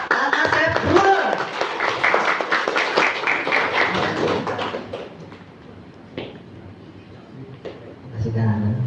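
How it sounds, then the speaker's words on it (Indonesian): Applause and clapping from an audience at an afternoon gathering in Serang, Cibiuk, as a guest speaker is welcomed; dense clapping fills the first five seconds, then thins to scattered claps under some voices. "Langsung aja kita tepuk tangan yang mulia buat Kak Asep Brun."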